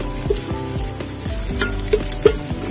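Chopped onions for adobong sitaw with tokwa hit a hot pan and sizzle steadily, with light stirring and a few soft utensil clinks close by.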